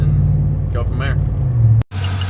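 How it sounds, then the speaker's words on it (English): A 1967 Chevrolet C20 truck engine idles in a steady, loud, low rumble, with a brief high squeal near the start. A voice speaks briefly over it before the sound cuts out and resumes. "Little bit of a belt squeak,"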